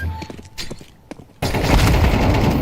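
Gunfire in the video game Counter-Strike 2, scattered loud shots in the first half followed by a dense sustained burst of rapid fire, all close and with no talk over it.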